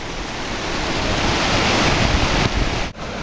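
Spring water rushes out from under the rock at Banyas, Caesarea Philippi, a loud, steady, close roar of churning water with no break in its flow.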